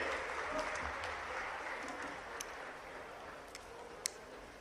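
A crowd at a police honours and Amar Jawan Jyoti inauguration ceremony in Balaghat claps to welcome the chief minister. The applause is a faint, distant, steady patter with a few sharper ticks.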